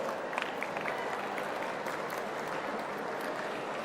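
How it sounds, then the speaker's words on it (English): A crowd at a gathering cheers and applauds for the student community, a steady, dense wash of clapping and voices that holds evenly throughout. "maybe before starting, a huge cheer for the student community over here"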